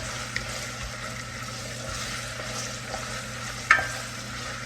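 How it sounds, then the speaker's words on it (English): Vegetables for a turkey pot pie sauté in a pan with a steady, soft sizzle and occasional stirring scrapes, plus one brief sharper clink near the end. "we're just sauteing these vegetables a little bit"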